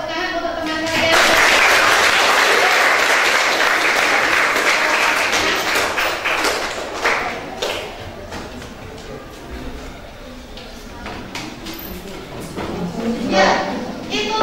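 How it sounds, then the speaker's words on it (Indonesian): A classroom of students claps for their classmates, a loud burst of applause that gradually thins into scattered claps and chatter before swelling slightly again at the end. "berikan tepuk tangan untuk teman kalian"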